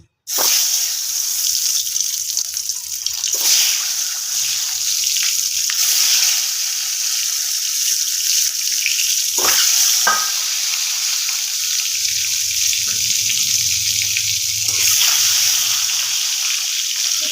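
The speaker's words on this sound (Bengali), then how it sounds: "একটু নাড়াচাড়া করে ডিমগুলোকে ভেজে তুলে নেব" Eggs frying in hot oil with turmeric for an egg curry give a steady, close, loud sizzle throughout. Brief stirring scrapes break in now and then, and a lower rumble joins near the end.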